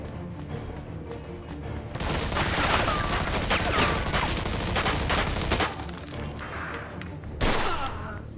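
Rapid, loud gunfire in Mafia 2, a dense run of close shots lasting several seconds with brief quieter gaps before and after.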